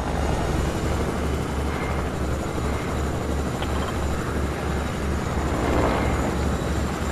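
A helicopter flies in the Fortnite battle royale game, giving a steady, loud rotor drone with a rhythmic low thumping of the blades that carries through the whole stretch without talk.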